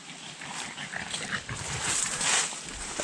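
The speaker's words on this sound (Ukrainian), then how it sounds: "собаки бігають, носяться." Dogs scamper and rustle close by through damp, mossy forest while mushroom hunting, with soft whimpers and yips and a brief growl amid the movement.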